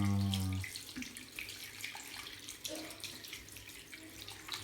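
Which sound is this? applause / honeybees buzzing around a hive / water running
water running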